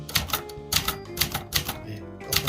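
Keys struck on a Clover or Brother manual typewriter, a quick run of sharp clacks in a steady, slightly uneven rhythm with short pauses, close and clear with no voices.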